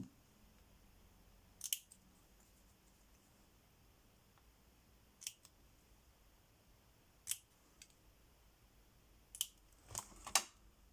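Scissors snip through a sheet of paper at the middle in a handful of short, crisp cuts spaced a few seconds apart, close and quiet, with a quick double snip near the end.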